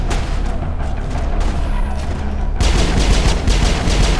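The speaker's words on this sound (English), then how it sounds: "I counter your destroyer with my stupid rapid fire ability that kills things" A rapid-fire weapon ability in Mass Effect unleashes a dense, loud barrage that builds and grows heavier partway through, with booming impacts under the continuous stream of shots.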